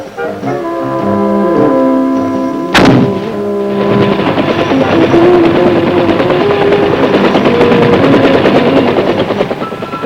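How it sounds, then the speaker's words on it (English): Weapons fired in Vietnam, with one sharp loud gunshot crack followed by a rapid rattle of machine-gun fire over a droning engine, all near and loud, with no speech. "Mr. Mitchum is given the opportunity to fire some of the weapons of the real-life heroes in Vietnam."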